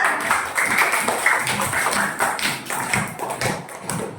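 Students in a classroom clap together after a science lesson, giving a steady patter of many overlapping hand claps at moderate volume that continues evenly for several seconds with no talking over it.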